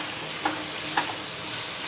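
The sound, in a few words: stirring chicken rara kebab mixture in pan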